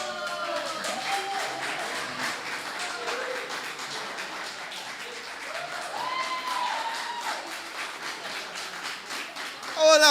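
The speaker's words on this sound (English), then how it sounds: "Oh, no, y'all not gonna clap now. Oh, no, don't clap now." Audience applause at an open mic poetry night: steady, dense clapping from a crowd that holds for several seconds, with voices talking and calling out over it.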